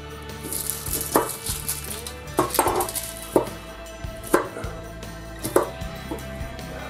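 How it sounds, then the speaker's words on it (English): A knife chops shallots on a cutting board with sharp, irregular thuds, about eight distinct strikes spread over several seconds, close and fairly loud, while a low sizzle and kitchen background hum continue underneath. "We're going to chop our shallots."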